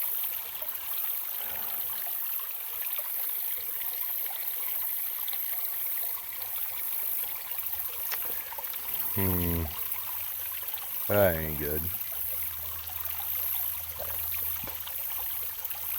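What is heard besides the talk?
water pouring out of a sluice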